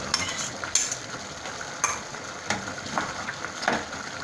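Onion stirred in a pan while green papaya is sautéed with soy sauce, a utensil scraping and tapping the metal in irregular close strokes over a soft, steady sizzle.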